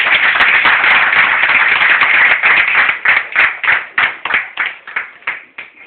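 An audience at a prize distribution in a restaurant applauds, dense loud clapping from many hands that thins into scattered, slower individual claps as it dies away.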